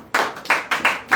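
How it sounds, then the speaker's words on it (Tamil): Church congregation claps in a rhythmic run of sharp, separate hand claps, roughly four or five distinct strikes in just over a second, close and fairly loud with no speech. "கைதட்டுங்க"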